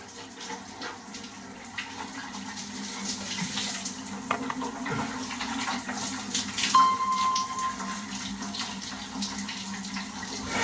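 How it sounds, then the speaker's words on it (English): Shower water streaming steadily through chambers packed with blocks of ice in a cold shower head, a continuous rushing spray with faint knocks and rattles. "Which is allowing the water to flow through those chambers much quicker."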